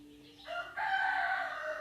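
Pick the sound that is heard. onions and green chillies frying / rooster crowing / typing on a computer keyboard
rooster crowing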